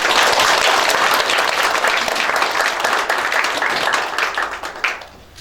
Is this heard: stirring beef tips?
no